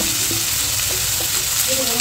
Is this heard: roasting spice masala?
yes